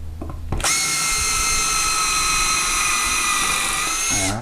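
A brief click and handling noise, then a Makita cordless drill with a driver bit spins up drilling into knotty wood, loud and close, whining steadily for several seconds before winding down.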